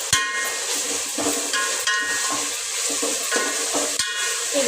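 Ginger garlic paste frying in a pan, a loud close sizzle broken by repeated scraping and stirring strokes of a metal utensil against the pan, no speech.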